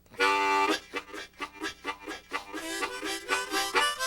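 Rapid rhythmic harmonica chugging, short pulsing chords repeating steadily after a long opening note, imitating a train rolling down the tracks.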